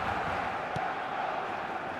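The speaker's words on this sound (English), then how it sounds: "the crowd are reacting to that now" Stadium crowd in the eFootball video game roars in a continuous, moderately loud wash of voices that holds steady, with a brief sharper accent near the middle.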